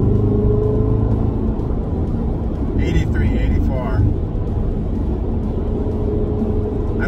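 A car with an AWE Tuning touring edition exhaust drones low and steady, heard inside the cabin on the highway with road rumble, while a voice speaks briefly over it.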